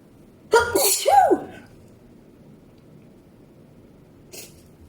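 A single loud, close sneeze bursts out, followed by quiet room tone and a faint brief sound near the end.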